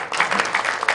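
A short burst of audience applause in a church lecture setting, a dense patter of clapping lasting about a second at moderate loudness.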